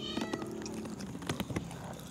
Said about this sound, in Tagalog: Pare, itim pa yung pusa.